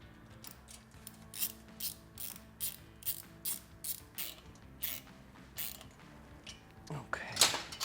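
A ratchet wrench tightening a bolt on a Harley-Davidson Sportster motorcycle, clicking in quick repeated bursts of strokes, close but quiet, ending in a louder scrape and clunk.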